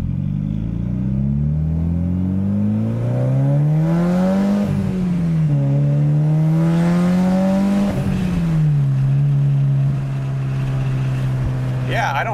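A turbocharged Mitsubishi Lancer Evolution VIII revs up and down in long sweeps while driving, a deep throaty exhaust note climbing and falling loudly, with a brief light rattle near the end.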